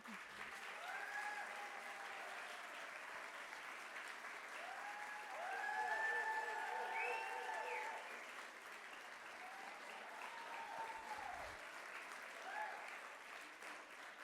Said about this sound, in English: Please give a round of applause and stand up.